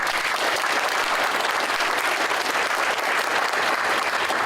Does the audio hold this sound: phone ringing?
no